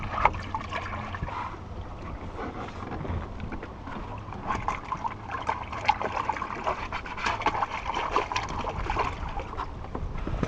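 Water splashes and trickles continuously out of a dinghy as it drains with its nose raised, outdoors with some wind buffeting the microphone and no talking.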